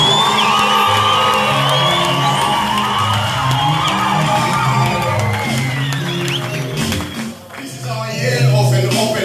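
A revival church congregation claps and cheers, with whoops and shouts rising over a lively, loud crowd din and a musical backing, a brief dip near the end before the noise swells again.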